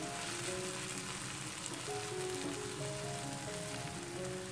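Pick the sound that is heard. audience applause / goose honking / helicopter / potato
potato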